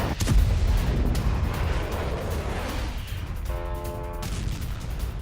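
Russian artillery bombardment in the Donetsk region of Ukraine opens with a heavy boom and settles into a rumbling, roaring wash of distant fire. No voices are heard.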